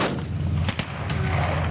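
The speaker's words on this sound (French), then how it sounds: "Des explosions et des échanges de tirs." Rapid booming shots and cracks from a military exercise in Ukraine's Chernihiv region near the Belarus border, several sharp reports over a rumbling background, loud and close.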